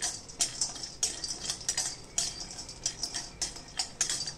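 Whole spices roast in a little oil in a pan while a spoon scrapes and taps them, making a quick, irregular clicking and rattling close by.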